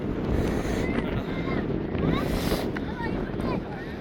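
A cold wind gusts across an open hilltop at Thangal Para, buffeting the microphone with a steady, loud roar that rises and falls slightly throughout.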